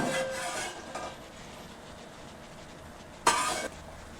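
Brinjal and raw prawn curry being stirred in a pot, soft scraping strokes at the start and a sharper clatter of the spoon near the end, fairly quiet with a steady background hiss and no talking.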